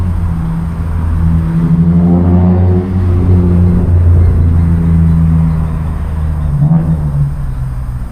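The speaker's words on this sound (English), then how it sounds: "The traffic that you can hear in the backyard wasn't there before." Road traffic heard from a backyard container garden, with a loud low rumble and whir of passing cars swelling and fading as vehicles go by, close and continuous.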